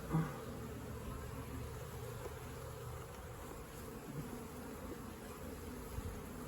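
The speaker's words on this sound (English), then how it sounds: "They're getting a little agitated now because I'm getting down deep in the hive." Honey bees in an opened hive buzz agitatedly as the frames are worked deep inside, a steady close, even drone throughout with no talk.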